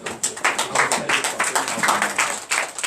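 A church congregation at a Saturday morning prayer service in Benin claps in acclamation: a dense, steady wash of many hands at moderate volume, with no break for the whole stretch.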